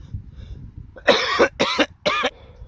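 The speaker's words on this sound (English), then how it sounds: "That's why I'm coughing so much." Three sharp, loud coughs in quick succession, close up, with faint background noise and no talking.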